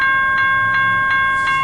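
A long-haul CN mixed-freight manifest train rolls westbound with a steady, high-pitched tonal whine over evenly spaced wheel clacks, loud and continuous.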